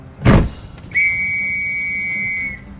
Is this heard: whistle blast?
yes